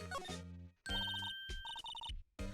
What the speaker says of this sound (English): Hey, a phone.